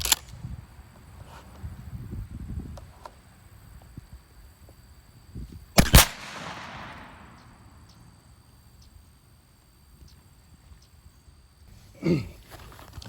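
A Winchester Xpert 28 gauge shotgun loaded with 3-inch steel No. 4 shot fires once outdoors on a farm. The single loud, sharp blast is followed by a fading rumble, with quiet field ambience and a faint thud later.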